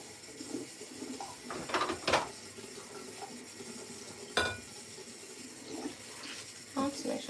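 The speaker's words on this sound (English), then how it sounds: "I'll rinse this off quickly." A kitchen tap runs while something is rinsed under it during cooking of spaghetti jollof with boiled eggs, giving a steady close water hiss broken by a few louder splashing, clattering bursts.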